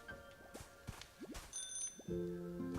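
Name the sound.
little bell sound from an object in the video game Pokopia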